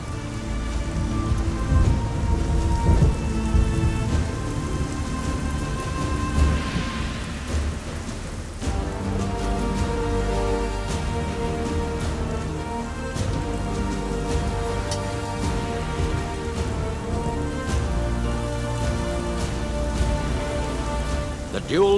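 Heavy rain falls steadily, with thunder rumbling and one sharp crack around the middle. A musical score sits underneath, and no one speaks.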